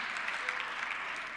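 An audience at an artistic expression event applauds in a dense, continuous burst of clapping, loud and close with no pauses.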